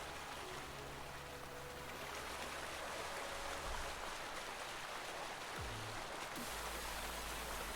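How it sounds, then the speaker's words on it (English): A steady waterfall rush heard in the middle of a field in Farming Simulator 19, a continuous broadband wash of falling water that stays even and fairly soft throughout, with no voices. "Shouldn't be able to hear a waterfall in the middle of a field."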